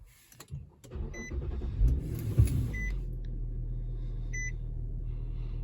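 A Nissan Murano with a 3.7 V6 engine starts up after a few clicks and chimes, cranking briefly before settling into a low steady idle hum, close inside the cabin with repeated soft beeps.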